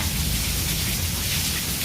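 Heavy monsoon rain hammers down in a dense, even roar with a deep low rumble beneath, close and constant throughout with no talking.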